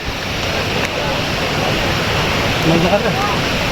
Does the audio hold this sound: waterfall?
yes